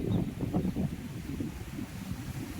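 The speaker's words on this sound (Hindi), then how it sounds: "तेज हवा चल रही है" Strong wind gusting under dark storm clouds ahead of a dust storm and heavy rain, a steady low roar with rolling buffets that stays loud throughout and is heard alone, without any voices over it.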